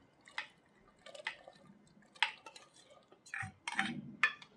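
Cooked pulses dropped into mashed taro leaves in a pot, soft wet plops, drips and a few spoon clinks against the vessel, scattered and close, with quiet pauses between.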